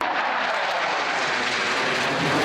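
An F-16 fighter jet flying in Ukrainian skies, producing a continuous, loud, broadband engine roar that stays steady throughout with no talk.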